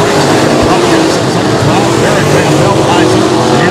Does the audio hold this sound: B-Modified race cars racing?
yes